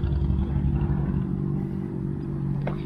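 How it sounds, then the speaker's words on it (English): A motor vehicle engine rumbles low and steady, probably a motorcycle passing at an autocross event, a constant throaty drone that eases slightly partway through with a brief clatter near the end. "Do I hear a motorcycle?"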